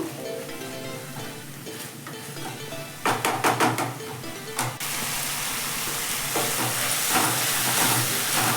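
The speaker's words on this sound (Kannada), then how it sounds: "ಹುಣಸೆ ಹಣ್ಣಲ್ಲಿರೋ ಹಸಿ ವಾಸನೆ ಚೆನ್ನಾಗಿ ಹೋಗೋ ತನಕ ನೀಟಾಗಿ ಫ್ರೈ ಮಾಡ್ಕೋಬೇಕು" Tamarind gravy for bitter gourd gojju fries in oil in a pan with a steady, close sizzling hiss, broken midway by a few sharp clattering knocks before the sizzle swells again.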